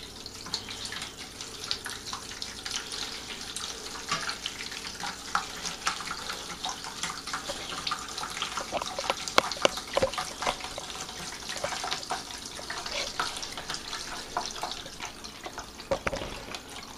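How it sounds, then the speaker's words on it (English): Red Malbec wine from a winemaking kit is siphoned into a pail, producing a continuous trickling, splashing pour of moderate loudness with small drip-like spikes throughout. "Start the siphon."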